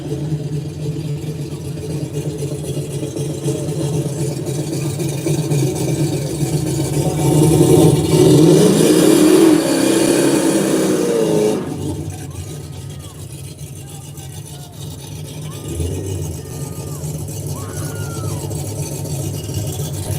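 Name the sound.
Cutlass race car engine revving at no-prep drag race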